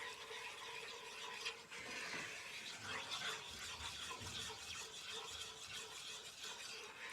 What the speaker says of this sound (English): Just keep that roux stirring.